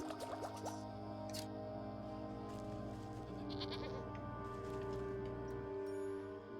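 Bleating from a skittish sheep in the video game Wytchwood, with calls layered over a steady droning game soundtrack and some dripping, squishy effects.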